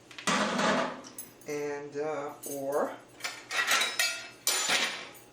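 A spoon scrapes and clinks tapioca around a pan in short bursts, with someone speaking over much of the scraping.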